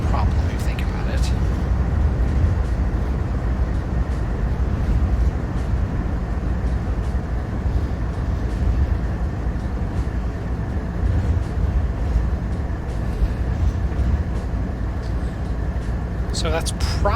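Simulated locomotive in Train Sim World 3 rumbling steadily at a constant loud level, a continuous low engine drone throughout, with brief higher clicks near the start and end.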